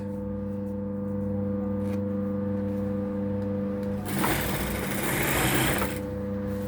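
An old sewing machine stitches the binding on a sun-shaped piece, a steady droning motor hum with a harsher rattling burst of fast stitching near the end, close and alone without talk.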